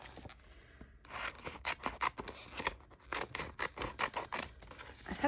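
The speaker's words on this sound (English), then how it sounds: "I'm gonna grab some scissors." Scissors snip through sticker sheets in quick, close, crisp cuts with light papery scraping between strokes, quiet and without talk.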